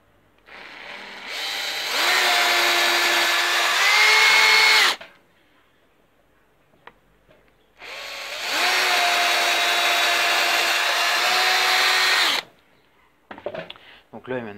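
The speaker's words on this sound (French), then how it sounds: "Donc ça c'est juste un trou pilote." A power drill bores a pilot hole through a wooden board, then a second one: two sustained whining bursts of about three seconds each, separated by silence, with faint handling noise at the end.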